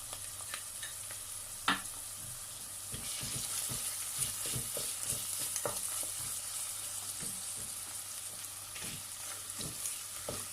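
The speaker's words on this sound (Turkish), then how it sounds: "Salça ve biberi ekledikten sonra da yine biraz kavurdum." Tomato paste and red pepper sauté in a pan with a constant soft sizzle, broken by repeated spoon taps and scraping stirs, close but fairly quiet, with no voices.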